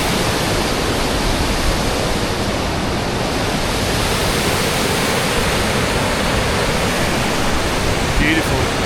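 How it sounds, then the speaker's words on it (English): Water on the River Trent rushes with a steady, loud, roaring wash that runs unbroken throughout, close by and with no talk over it. "When you get closer, it's the force of the water. Absolutely amazing. Listen to that roar."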